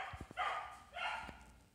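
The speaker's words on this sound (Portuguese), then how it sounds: "Meus cachorros estão latindo." Dogs barking indoors at home, two short bursts of barks about half a second apart, moderately near but fairly quiet, with a faint yip between them and no talk.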